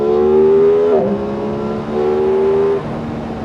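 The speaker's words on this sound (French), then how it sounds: "On va la mettre à 7000 pour voir." An Aprilia RS660 sport motorcycle engine is revved to about 7000 rpm. The loud, close engine note climbs in one sharp rev, drops back, then holds a second steady rev before falling off, with no one speaking.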